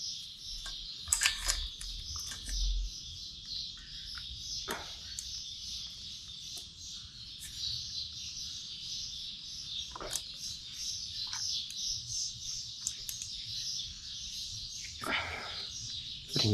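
Small birds chirp faintly and continuously outdoors beside a motorcycle workshop, with a high, steady twitter broken by scattered clicks and knocks.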